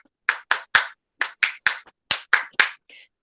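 Nine sharp, evenly spaced hand claps ring out in a webinar on emotional intelligence, crisp and close, followed by a faint trailing sound at the end, with no talking.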